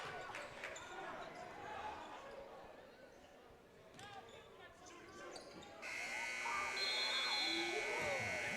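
A long electronic buzzer ends a quarter of a high school basketball game in a gym, sounding loud near the end after faint ball bounces and a commentator's voice.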